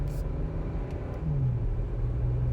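A 2021 Porsche Macan S engine under way, its PDK transmission shifting gears: a low steady engine rumble from inside the car, with the pitch dipping and settling as a gear change comes through, moderately loud and without talk.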